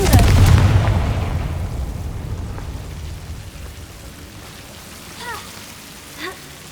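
A Confringo spell explosion in a video game: a loud opening boom with rumbling low decay fading over several seconds, followed by two short, fainter whooshing spell sounds near the end.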